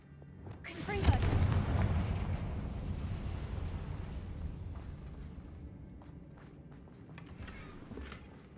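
A Confringo fire spell cast in Hogwarts Legacy bursts with a loud explosive blast near the start, then rumbles and crackles as it slowly fades over several seconds, with smaller bursts and thuds later on.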